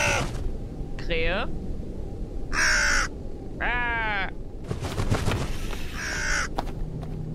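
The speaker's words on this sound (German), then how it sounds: "Krähe." Crows caw repeatedly in a Japanese found-footage horror video game, harsh descending calls coming in separate bursts over ambient noise, with a voice talking between and under them.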